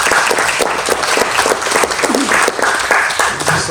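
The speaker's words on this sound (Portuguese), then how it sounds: "Uma salva de palmas para eles." Outdoor crowd at a community health event under donated tents gives a round of applause, dense clapping with some voices mixed in, loud and close throughout.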